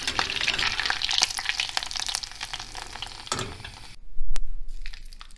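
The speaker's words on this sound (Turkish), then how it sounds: "Yağımızı iyice yakıyoruz." Oil heated in a pan with red chili powder for Sivas-style potato hıngel sizzles and crackles steadily, a dense close frying hiss with occasional stirring clinks before it drops away near the end.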